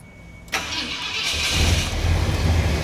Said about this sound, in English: And the truck runs.